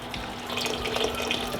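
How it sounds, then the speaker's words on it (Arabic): Water runs from a tap into a pot of turkey brine ingredients such as chopped onion and peeled orange, a soft steady splashing stream heard close and quiet. "بحط لهم المي"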